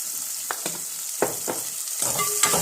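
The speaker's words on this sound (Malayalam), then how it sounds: "സവോള മൂപ്പിക്കുമ്പോൾ ഒരുപാട് മൂപ്പിക്കണ്ട" Onion frying in a pan while dal curry and chapati are made, with a low sizzle broken by several scraping stirs of the spoon, close and fairly quiet.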